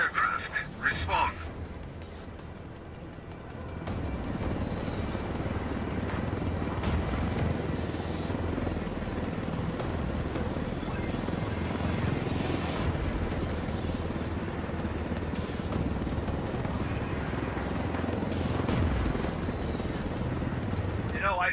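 A helicopter flying in Ghost Recon Wildlands, with a steady whirring rotor and engine drone that swells in after a few seconds and runs continuously, while voices talk over it.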